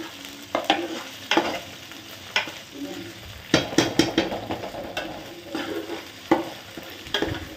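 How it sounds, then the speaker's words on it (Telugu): Ginger garlic paste sizzling in a pan for prawn curry while a spoon stirs it, with a steady frying hiss broken by repeated scraping strokes against the pan, close up. "అల్లం వెల్లుల్లి పచ్చివాసన పోయేంత వరకు మనం వేయించుకోవాలి"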